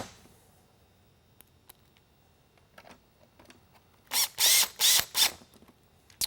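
Screws are driven into a StarBurst Half-Phantom unit, first as faint scattered clicks and small handling taps, then as four loud, close, rasping bursts of a driver in quick succession near the end.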